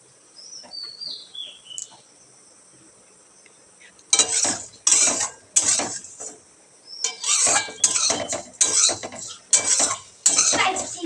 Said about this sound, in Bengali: আমার ছেলে বলছে আজকে কি চিড়ে ভাজা খাবে, তো সেটাই করছি আমি, চিড়ে ভাজছি